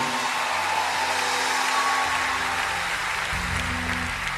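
A church congregation applauds the Lord Jesus during a pastor's sermon, giving steady, dense clapping that holds throughout, with a low rumble of organ or keyboard tones underneath.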